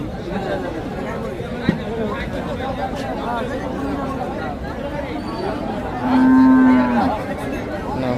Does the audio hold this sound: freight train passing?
no